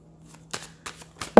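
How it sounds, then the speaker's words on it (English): A deck of tarot cards gets shuffled up close in a few quick, crisp riffling bursts, each ending in a brief slap, with no voices. "Getting a good shuffle."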